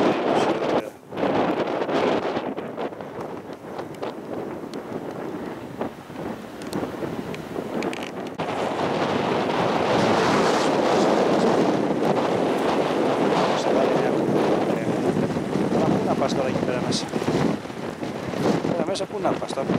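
Strong wind gusting at a beach in Rotterdam, a broad continuous roar buffeting the microphone that swells louder from about nine seconds on and holds steady to the end, with no talk heard.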